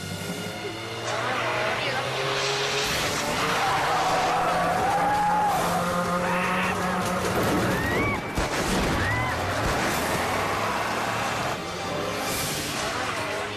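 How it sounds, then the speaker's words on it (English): A rally car hydroplanes and skids through a turn on a race course, engine roaring and tires squealing loudly and continuously, mixed with crowd noise and a voice talking over it. "A rally racer hydroplanes on the turn. He loses control and can't veer from his deadly course."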